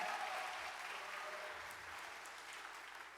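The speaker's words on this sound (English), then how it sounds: "Give them a round of applause." A faint, continuous round of applause from a gathered audience at a Father's Day event as a raffle winner is called up, the clapping even and sustained and slowly fading.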